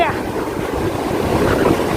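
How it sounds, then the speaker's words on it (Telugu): Sea waves surge onto a beach in a continuous loud roar of surf mixed with wind buffeting the microphone, with no talk. "అలలు అయితే బాగా చూడండి ఎగిసిపడతా ఉన్నాయి"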